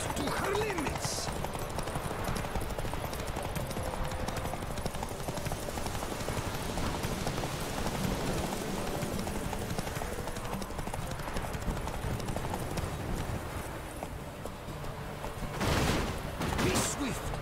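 Geralt's horse Roach gallops in The Witcher, a steady rapid clip-clop of hooves running continuously under game ambience and faint background sounds throughout, fairly quiet.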